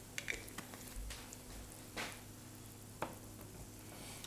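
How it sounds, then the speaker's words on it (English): Buffalo wing sauce made with Frank's hot sauce being stirred in a pan, a steady soft sizzling and scraping texture with a few louder swishes of the spoon, close and without speech. "Let's get in there, give it a stir."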